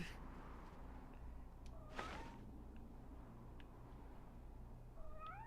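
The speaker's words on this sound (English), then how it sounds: "Pretty sure there's another kitten up here." A kitten in the video game Superman Returns meows repeatedly, short rising cries spaced out over a steady low background hum, with a louder burst near the middle and no talking.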